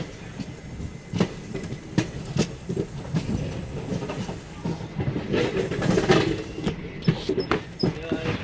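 A train rolls along the rails just after pulling out of Chennai Central (MGR) station on a long-distance run, with steady rumbling, wheel clatter and periodic sharp clicks at rail joints, close and continuous.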